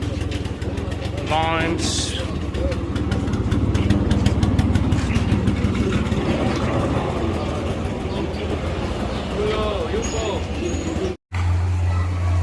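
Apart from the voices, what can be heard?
mopeds idling and revving in a street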